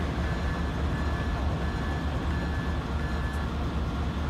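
A steady, loud rumble of a CSX train rolling past in Train Sim 2015, continuous rail noise with a faint whining tone and no voices.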